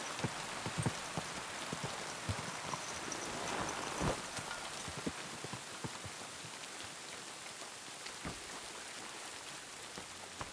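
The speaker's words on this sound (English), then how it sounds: "It's always raining down here." Steady rain patters on surfaces in the video game Kingdom Come: Deliverance II, with scattered heavier drops landing nearby throughout, a constant wash of sound and no voices.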